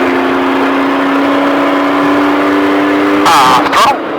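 A trophy truck engine drones steadily at a held pitch, then surges loudly near the end as the driver gets back on throttle, with a rough, roaring burst before dropping off.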